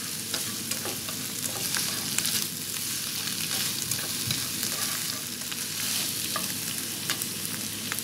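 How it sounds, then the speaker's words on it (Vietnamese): Mushroom stems stir-frying in a hot pan for a vegetarian spicy dish, with a steady close sizzle and repeated scraping and tossing of a utensil throughout, no voices. "xào cái phần chân nấm này nè"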